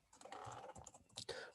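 Quick, close clicks of computer keyboard typing during a Laravel coding lesson come in short, uneven bursts, faint and with no talking over them.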